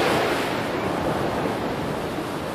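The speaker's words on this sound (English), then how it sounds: "It's the ocean, Amber." Ocean surf washing onto a sandy beach, a steady broadband rush that holds loud and even throughout with no clear break between waves.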